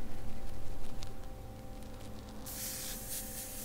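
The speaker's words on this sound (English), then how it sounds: "Make sure we get a little spray out going." Airbrush spraying paint while colouring a woman's face, a steady broadband hiss that grows brighter and louder in the second half, heard alone without talk.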